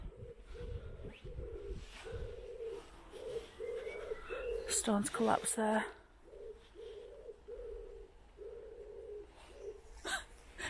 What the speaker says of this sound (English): You heard them birds?